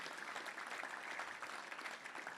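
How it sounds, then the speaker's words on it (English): Club audience at a touchdown club meeting clapping for volunteers, a faint, steady wash of applause heard from a distance. "So let's give all of them a big round of applause"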